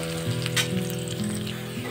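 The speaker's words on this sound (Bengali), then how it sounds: "ভালো করে একসঙ্গে নেড়ে চেড়ে ভেজে নেব।" Onions with ginger garlic paste fry in a pan with a steady, close sizzle and a few quick stirring scrapes, over a faint steady hum in the background and with no talk.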